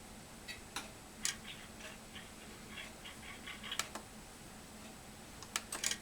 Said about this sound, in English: The relay sound you're hearing is actually being generated by the computer to simulate a CTC panel.